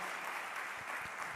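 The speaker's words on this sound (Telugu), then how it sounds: "గట్టిగా చప్పట్లు కొట్టి ప్రభువును మహిమపడదాం" A church congregation claps loudly in praise during a sermon, a dense, steady wash of many hands filling the whole short stretch without any voices standing out.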